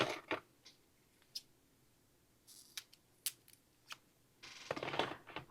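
Scissors snip through a roll of dimensional adhesive foam in a quiet room, giving several short, sharp clicks and crisp cuts spread apart, with a longer rustling burst near the end.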